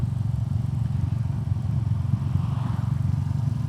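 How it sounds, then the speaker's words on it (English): Small cruiser motorcycle engine while riding on the road, a steady, loud low rumble with a pulsing throb and a faint rush of wind, no voices. "And this bike is quite small, but still the riding comfort is very good."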